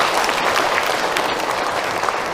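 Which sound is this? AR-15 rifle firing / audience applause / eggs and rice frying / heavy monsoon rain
audience applause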